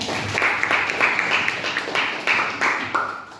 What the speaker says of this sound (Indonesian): Jadi tepuk tangan dong buat Kanita.